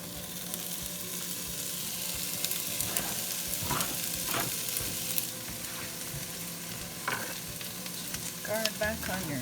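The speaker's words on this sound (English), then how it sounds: "we're gonna throw the veggies in really quick to give them a fast cook" Quick-cooking vegetables sizzle steadily in a pan for beef stroganoff, a continuous fry hiss broken by several bursts of stirring and scraping, close and moderately loud with no talking.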